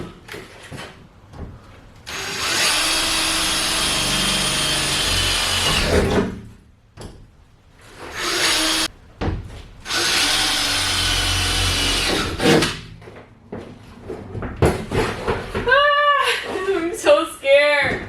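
A power drill bores holes during a camper van build, running in two long loud bursts separated by pauses and short spurts, close by, with faint handling noises between and a few brief squeaky sounds near the end.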